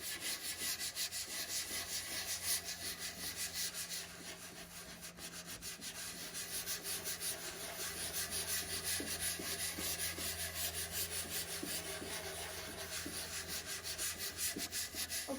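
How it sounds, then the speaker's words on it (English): A Scotch-Brite pad works oil into a bare pine cabinet surface, making a close, continuous scratchy rubbing with a steady back-and-forth rhythm and no voices. "I'm going to come back with a Scotch-Brite pad and make sure it all goes into the wood."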